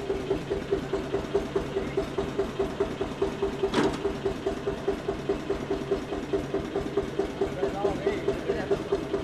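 A tractor's diesel engine idles steadily with a rhythmic knocking thump under a low-mid hum, near and moderately loud, with a brief sharp clatter partway through.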